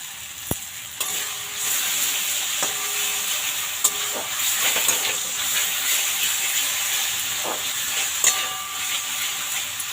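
Spices and sour yogurt sizzle steadily in an oily pan for aloo dum, a continuous frying hiss broken by occasional clinks and scrapes of a spoon stirring the masala.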